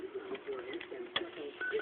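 A bird loose in a radio studio on April Fool's Day coos and calls near the mic in short bursts over a low background hum, with faint voices in the room.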